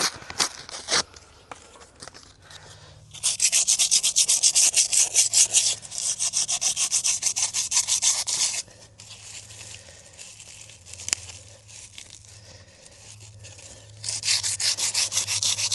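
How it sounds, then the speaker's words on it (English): Hand sanding of a caravan wheel rim, with rapid back-and-forth scratchy rubbing strokes in several close bursts, broken by quieter pauses and occasional knocks. "So we're going to sand it all back, give it a clean, and respray it."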